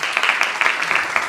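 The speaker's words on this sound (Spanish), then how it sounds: "Así que un aplauso para ustedes" Students at a school geography olympiad give a short burst of applause, brisk, dense clapping that is fairly loud and close, lasting just over a second.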